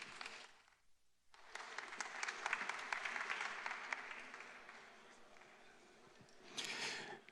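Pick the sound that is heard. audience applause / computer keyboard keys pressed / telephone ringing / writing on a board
audience applause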